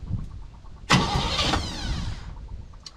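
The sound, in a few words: car starter motor cranking the engine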